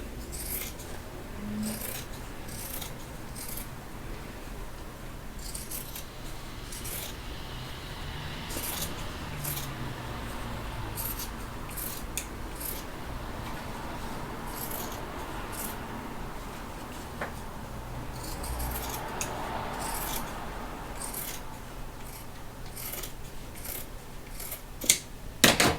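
Scissors trim back a stitched fabric seam, giving repeated crisp snips in an irregular rhythm over a quiet background, close and fairly soft.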